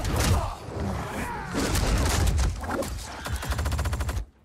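Gunfire from a fighter's pistols in Mortal Kombat 11, rapid loud bursts of shots mixed with impacts and combat effects, ending in a quick rattling volley.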